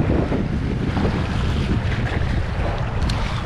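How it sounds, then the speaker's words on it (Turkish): Strong wind at sea buffets the microphone while fishing from a boat off İzmir, a loud, constant roar with waves and water noise underneath and no speech throughout. "Çünkü çok rüzgar var."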